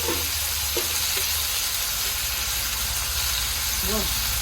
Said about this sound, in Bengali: আমি ভাজা করে নিচ্ছি আর একটু ভাজা হবে